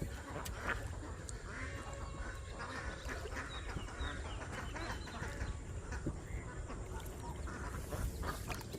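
A flock of ducks quacks in a busy, overlapping chorus from a boat on the water, steady throughout with no clear break and set against constant outdoor background noise.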